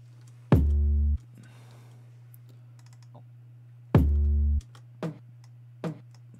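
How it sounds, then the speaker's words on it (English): Two deep, sustained 808 bass notes in a trap beat production session with piano and brass, each lasting about half a second and separated by a pause, with a few faint clicks in between. "let me hear it compared to the 808"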